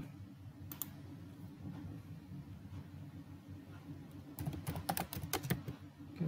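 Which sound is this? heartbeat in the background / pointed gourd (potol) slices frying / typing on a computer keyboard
typing on a computer keyboard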